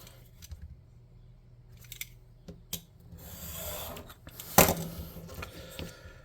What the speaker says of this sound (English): we're going to snip off a thin piece of trim